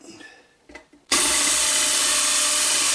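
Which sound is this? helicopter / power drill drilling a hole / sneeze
power drill drilling a hole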